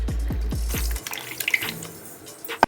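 Ground ginger and green chili water being strained for pani puri, a few quick liquid pours and drips up close, then softer trickling and splashes.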